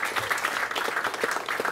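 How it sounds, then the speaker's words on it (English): Audience applause at a Cook Islands performance at the Polynesian Cultural Center, a lively burst of clapping from a crowd, close and fairly loud, with individual claps standing out. "Give them a big round of applause."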